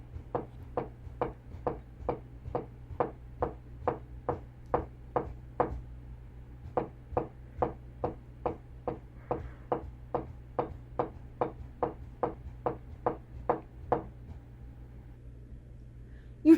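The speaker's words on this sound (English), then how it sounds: "whatever I was supposed to be knocking out, I actually made sure to knock out that many knocks" A long, steady run of wooden knocks on a door from a haunted house horror game, about two dozen evenly spaced raps split by a short pause, close and clear over a low constant hum.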